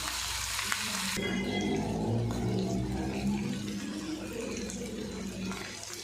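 Eggplant pieces sizzle and crackle steadily in hot oil, with a brief splash of water at the start, close by and fairly quiet.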